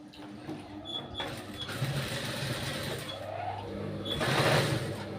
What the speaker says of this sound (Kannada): ಈ ಥರ ಫೋಲ್ಡ್ ಮಾಡಿಕೊಂಡು ಸ್ಟಿಚ್ ಹಾಕೋಬೇಕು